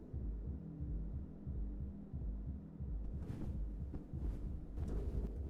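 A fast, heavy heartbeat thumping in the horror video game Mouthwashing, steady low pulses over a droning hum, with faint rustling bursts joining later.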